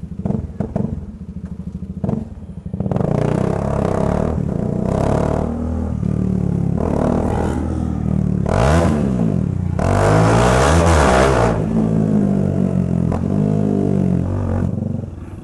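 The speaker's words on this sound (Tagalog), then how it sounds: "Di man maingay yung motor ko, sakto lang." A nearby 370-plus cc motorcycle with a stock exhaust idles roughly on New Year's Eve, then revs hard in repeated bursts, loud and close, with rattling pops between throttle blips.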